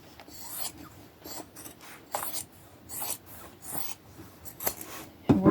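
Scissors snip through the strap of denim overalls in a run of short, crisp cuts with a rasping edge, close by and fairly quiet, ending in a sharper burst.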